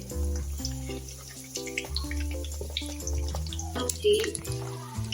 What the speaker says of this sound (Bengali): দেখো এইভাবে আমি ভেজে নিব, একটু কালার করে করে ভেজে নিব।